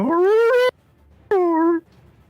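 A person imitates a hound dog with two drawn-out howling bays, close and loud, separated by a short silence.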